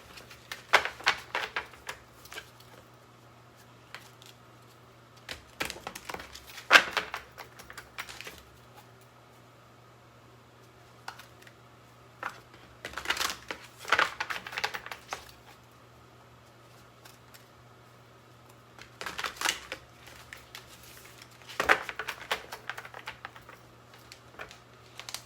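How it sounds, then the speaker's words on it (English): Tarot cards are shuffled by hand in repeated short bursts of riffling and patter, each lasting a second or two and separated by quieter pauses, over a steady low hum. "I'm just going to shuffle a couple more times"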